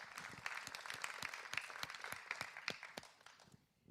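An audience applauds a student team after a project presentation, faint, scattered hand claps from a room of people for about three seconds before fading out.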